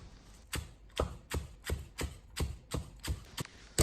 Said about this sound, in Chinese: 小葱同样用刀切碎